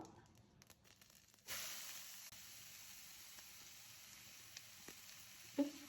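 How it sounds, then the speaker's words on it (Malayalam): Sliced onions drop into hot oil that already has mustard seeds in it, raising a soft, steady sizzle after a quieter start, with a few faint clinks over the low hiss. "നമുക്ക് സവാള ഇട്ട് കൊടുക്കാം സവാള"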